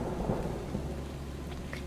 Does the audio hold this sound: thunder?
yes